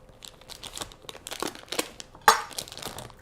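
Flour, oats, brown sugar and cut-up butter are gently tossed in a bowl, giving soft irregular crinkling and rustling with one sharper scrape near the end, close and alone without talk.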